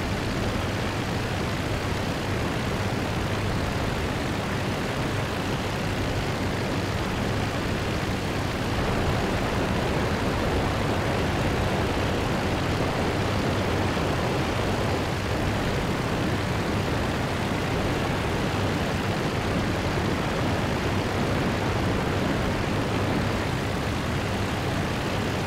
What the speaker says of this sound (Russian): Самолет летает, охраняет своих, что ли?